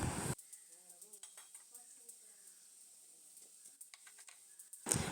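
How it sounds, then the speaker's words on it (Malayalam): Onions frying and sizzling in a pan on a stove while a spoon stirs them, with soft scraping and clinks of the utensil against the pan under a steady sizzle, with no one talking. "അത് നന്നായിട്ട് ഇങ്ങനെ ഒരു ബ്രൗൺ കളർ ആവണ വരെ ഇളക്കി കൊടുത്തുകൊണ്ടിരിക്കണം"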